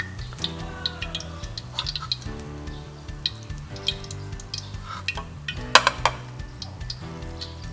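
A fried egg is lifted out of hot oil with a scoop, the oil giving a steady sizzle under light clinks and a sharper metallic scrape and drip near the end.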